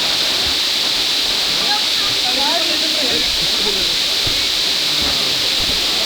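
Steady, broad rushing roar of a waterfall at a clean falls near Metro Manila, constant and fairly loud throughout with no breaks, a faint voice buried under the water noise.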